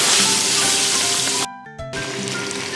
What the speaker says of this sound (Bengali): এবারে কড়াইতে সরষের তেল দিয়ে ভালো করে মাছগুলো আমি ভেজে নেব